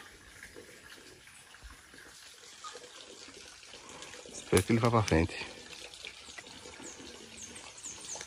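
Water is poured onto a passion fruit plant on a small farm, a soft splashing hiss running under a man's speech, with a brief, louder burst of sound partway through.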